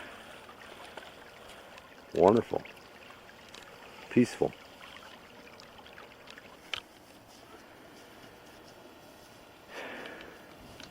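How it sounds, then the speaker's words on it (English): Clear water rippling past a log in a brook at Centerville Creek, a soft, steady flow running under a few brief spoken words. "it's just a rippling, clear water brook"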